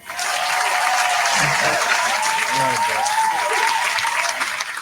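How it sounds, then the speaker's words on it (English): A crowd claps continuously, loud and dense, for about five seconds, with a voice briefly audible over the applause. "Let me clap for your brother though, because that's dope."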